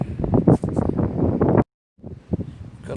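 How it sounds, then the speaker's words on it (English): Strong coastal wind at Macquarie Heads near Strahan, Tasmania, roars and thumps against the microphone, cuts out abruptly into a brief silence, then returns in softer gusts. "Plus being super windy"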